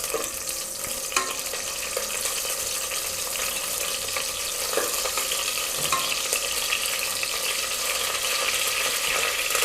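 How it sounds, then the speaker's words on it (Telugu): Green chillies go into hot oil and crackle in a steady, close sizzle. Small pops and sharp spits cut through a constant hiss, with no talking. "నూనె కాగాక పచ్చిమిర్చి వేద్దామండి."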